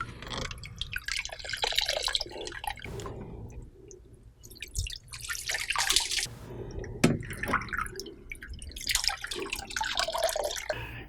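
Water drips and trickles off electronic air cleaner cells lifted from a soaking tub, a steady close run of splashes and patters with a few brief quieter gaps.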